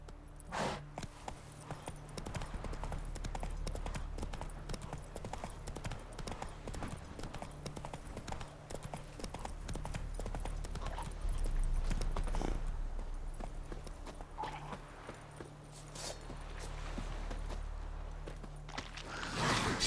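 A horse gallops in the video game Witcher 3, with rapid steady hoofbeats continuing throughout over a low rumbling game background, a voice speaking briefly.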